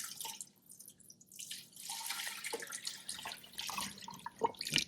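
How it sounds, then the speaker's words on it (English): Beef-seasoned bone broth pours into a pressure cooker with a soft, uneven splashing and dripping, close and fairly quiet, with a few brighter drips near the end. "add in the entire container of our bone broth"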